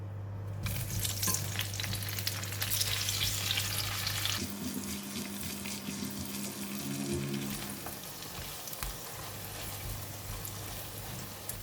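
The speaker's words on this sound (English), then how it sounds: "And now we're going to fry the crab balls." Crab balls frying in leftover garlic oil in a pan, a steady close sizzle with a low hum underneath, quieting slightly partway through, no voices.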